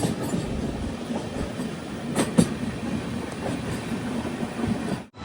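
An Ernakulam–Bengaluru Express sleeper train pulls into Thrissur railway station on a rainy evening, giving a steady close rumble of wheels and carriages with a pair of sharp metallic clanks midway before the sound cuts off abruptly.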